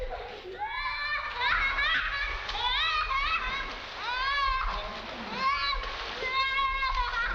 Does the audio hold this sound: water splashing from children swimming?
yes